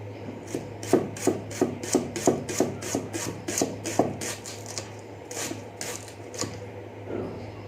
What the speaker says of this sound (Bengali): পেঁয়াজ কাটছি, বড়িটা দাগ হয়ে গেছে, এই জন্য কাটতে একটু অসুবিধা হচ্ছে